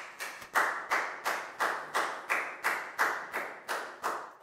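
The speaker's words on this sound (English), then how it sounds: "Big round of applause for Pakpung, please, guys." Students in a Year 4 classroom clap together in rhythmic unison, about a dozen sharp, evenly spaced group claps close by, each ringing briefly before the next.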